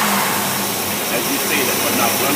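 A car engine fitted with an Edelbrock 1405 carburetor with manual choke runs loud and close for the whole stretch, holding a steady, rough roar with no clear pause.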